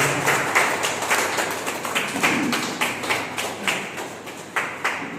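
Audience applause at a motivational speech event, a dense, steady wash of many hands with sharper rhythmic claps standing out at a regular beat, loud and continuous throughout with no talking.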